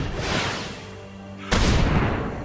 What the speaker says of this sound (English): blast them with the cannon with all that